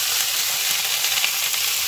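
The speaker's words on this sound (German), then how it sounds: "Kartoffelknaller und Frühlingszwiebeln. Also richtig scharf anbraten." Potatoes and spring onions sear in very hot oil with a steady, dense sizzle and crackle that stays loud and even throughout, with no talking.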